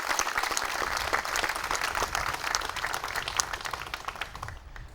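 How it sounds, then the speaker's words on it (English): An outdoor crowd at the Nay Aug Park tree house dedication gives a round of applause for the park's new conservancy partner: steady, full clapping that holds for several seconds before easing off. "Please give them a round of applause, please"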